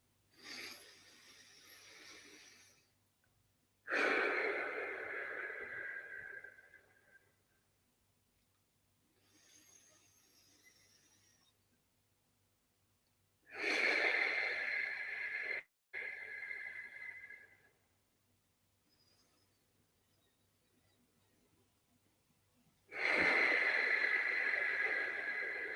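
Slow, deliberate breaths during a breathing exercise: long soft airy inhales and exhales, close and fairly quiet, separated by pauses of near silence, with no talking.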